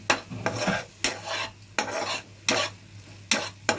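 Spices sizzle in a pan while a spatula stirs them in regular bursts, about six scraping strokes over a steady close frying hiss, no voices.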